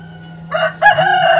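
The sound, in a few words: startled chickens crowing and clucking in coop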